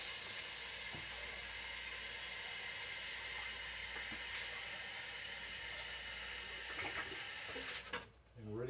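Water running steadily from a tap while rinsing wine-making equipment during home kit wine making, a constant close hiss of flow that cuts off abruptly near the end.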